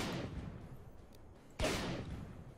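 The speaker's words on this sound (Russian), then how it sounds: "Вот выстрел дробовика." A shotgun fires once in the S.T.A.L.K.E.R. Call of Pripyat video game, a sharp blast midway through, preceded by a fading rumble and quiet ambience.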